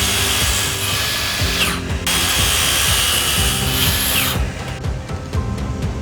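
Power tool cutting a wooden board down to its final size, a loud whining cut running in two long passes with a brief pause between, then quieter rattling tool noise as it winds down.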